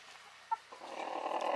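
A rooster makes an unusual noise: one short, sharp, clucking call, followed by a rising rough, breathy rasp that continues to the end, close by.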